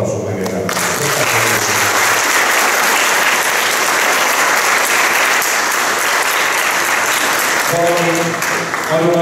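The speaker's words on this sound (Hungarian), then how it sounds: "Egy tapsot megérdemel." A large audience at a school graduation ceremony gives sustained, loud applause, with a voice speaking over it at the start and end.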